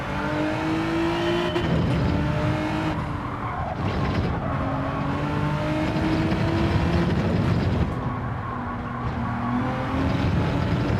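A race car engine in Gran Turismo 7 revs hard and continuously, pitch rising and dropping through gear shifts, with brief tire squeal and the drone of nearby cars.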